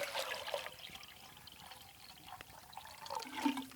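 Water is poured into a Pathfinder Bush Pot at an overnight campsite, a soft, steady splashing and trickling stream heard fairly faint and close, with no talking over it.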